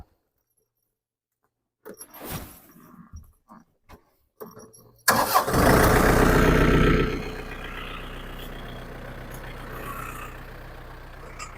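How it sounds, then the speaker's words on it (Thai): A car or truck engine cranks and fires up after a few short clunks and key jangles, then roars loudly before settling into a steady idle, used for spraying bio-compost fertilizer. "เขาจะสตาร์ทรถครับพี่น้อง"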